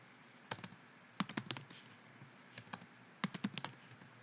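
Fingers typing on a computer keyboard while product information is entered into a spreadsheet, with quiet, close key clicks arriving in short irregular bursts separated by brief pauses.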